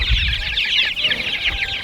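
A flock of pastured chickens clucks and chatters continuously up close while being herded, a busy overlapping squawking with no talking.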